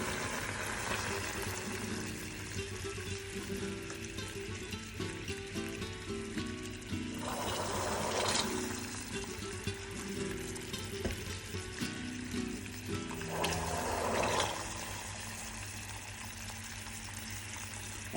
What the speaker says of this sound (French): on va verser l'eau bouillante graduellement dans le caramel